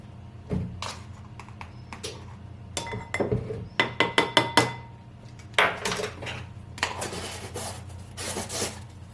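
Butter and sugar being mixed in a bowl for Christmas fruitcake: irregular scraping, rubbing and clinking of a utensil against the bowl, with bursts of clatter and sharper knocks, close and moderately loud.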